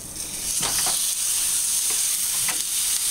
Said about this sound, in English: She's putting her ground beef in the skillet